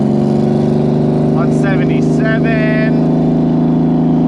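A flat-six Subaru WRX STI engine drones in a loud, steady hum up close, with a brief rising rev partway through, while a voice speaks a few words over it.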